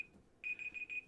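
A timer alarm beeps faintly in the background, with one short tone, a brief pause, then a run of rapid repeated electronic beeps, and no talking.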